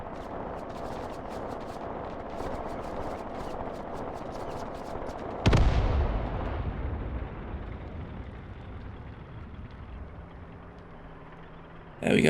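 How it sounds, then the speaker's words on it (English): MG 34 machine guns firing on advancing infantry in the WWII tactics game Graviteam Tactics: Mius Front, heard as a steady crackle of rapid bursts, then a heavy close blast that rumbles and fades, with another burst at the end. "We've got our MG, I assume 34s, opening up on these approaching infantry"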